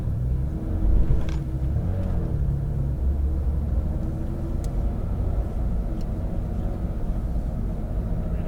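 A Porsche 911 GT3 RS moves off slowly on a track, its engine a steady low rumble heard from inside the car, with a slight swell in the first second.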